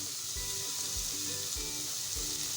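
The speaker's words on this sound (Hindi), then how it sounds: "इसको फ्राई करते हुए हाई फ्लेम पे ही हमें इसे फ्राई करना है" Carrots and capsicum fry in a pan over a high flame, a bright continuous sizzle with a soft scrape of stirring recurring about every half second.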